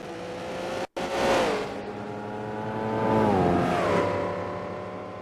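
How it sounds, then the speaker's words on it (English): Engine of a GT race car in Gran Turismo 4 howling down the straight, loud and close, a steady high whine with pitch sweeps as gears change, one abrupt cut near the start and no voices. "The GT is just blasting down the straight."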